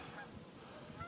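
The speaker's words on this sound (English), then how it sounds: "I hear another big group of geese just upstream a little ways." A big group of geese honking somewhere upstream along a river, faint and distant, their calls blurring into a steady, low-level chorus.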